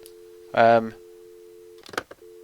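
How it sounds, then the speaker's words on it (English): A telephone dial tone from the Nancy Drew game The White Wolf of Icicle Creek hums as a steady continuous tone, briefly interrupted by two short bursts of voice. "that dial tone's annoying me"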